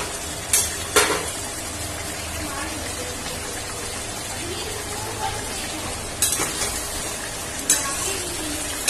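Fried potatoes and paneer stir-fried in a spiced masala for a vegetable paneer biryani, a steady close sizzle with a few sharp clinks of the spoon against the pan.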